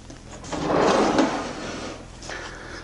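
A workshop drawer holding a set of sharpening grits slides along its runners in one smooth, rumbling movement that swells and then fades, heard up close without talk.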